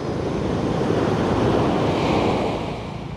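Strong ocean waves crash and surge against a rocky shore, a loud continuous roar of surf mixed with wind noise that eases slightly toward the end, with no talk.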